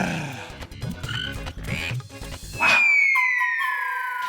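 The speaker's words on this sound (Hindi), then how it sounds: "टर्र टर्र टर्र टर्र टर्र टर्र।" Frog croaking in a Hindi fantasy TV serial: a rapid run of raspy, rhythmic croaks at moderate volume, then a bright descending whistle-like tone that rings on alone to the end.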